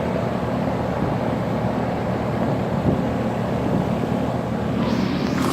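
A new 2018 Rheem Classic central air conditioner runs outdoors with a constant, loud broadband whoosh and hum from its fan and compressor, unbroken over several seconds, with no voices.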